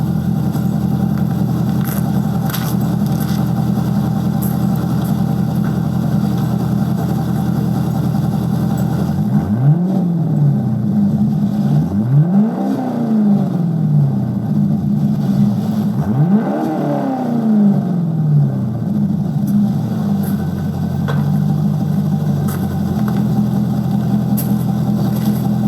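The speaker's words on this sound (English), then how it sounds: "when you rev it up, it does sound a little bit more loud than the Route 66s" A C5 Corvette fitted with a B and B Billy Boat exhaust idles with a deep, loud rumble, then revs sharply three times, each rise and fall distinct, before settling back to idle.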